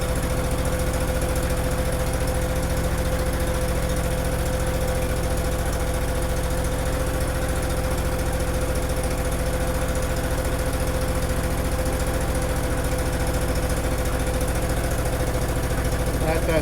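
A Kohler K241 single-cylinder engine runs steadily at a constant speed, a loud continuous drone with a firm low hum and even vibration that holds unchanged from start to finish, with no talk over it.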